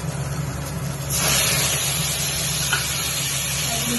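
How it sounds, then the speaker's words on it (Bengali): Fried puti fish tipped into a pan of hot masala sets off a sudden, loud, broad sizzling hiss that holds steady after the initial burst. "বাকি ভেজে রাখা মাছটা এর মধ্যে ঢেলে দিলাম।"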